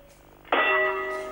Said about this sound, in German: Zwei Topfdeckel schlagen.